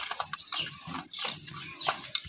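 Pigeons fluttering and calling nearby, with brief bursts of wing flaps and soft bird sounds over a quiet background.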